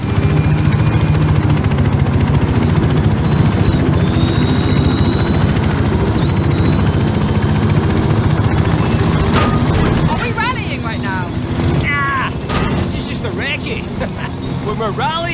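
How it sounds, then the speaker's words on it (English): A helicopter flies over a festival in the Forza Horizon 5 racing game, its steady rotor and engine drone loud and continuous throughout, with someone talking over it and the roar easing slightly near the end. "Follow the chopper."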